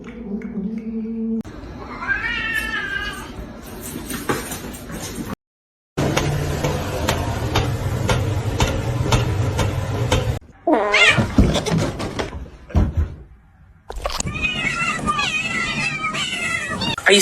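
Cats fight at close range, with loud drawn-out meows and caterwauling yowls in several bursts, separated by brief pauses and a moment of silence.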